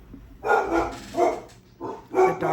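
A dog barks in three short, loud bursts, fairly close, with brief pauses between them.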